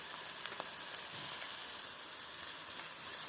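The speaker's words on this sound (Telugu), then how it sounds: "కొంచెం సాల్ట్ యాడ్ చేద్దాం, ఆనియన్స్ బాగా ఫ్రై అవుతాయి." Sliced onions with salt and chilli powder sizzle steadily in a hot pan for samosa stuffing, a continuous, fairly quiet crackling hiss with no voices.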